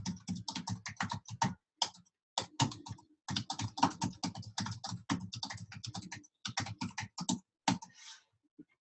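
Rapid keystrokes on a computer keyboard as a message is typed, in bursts of quick, close clicks with short pauses, steady and near with no voices.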